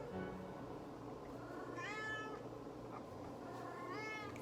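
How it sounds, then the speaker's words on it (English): A house cat meowing indoors, two clear rising meows about two seconds apart, moderately close, over a low steady background hum with no talking. "Oh, my cat's meowing."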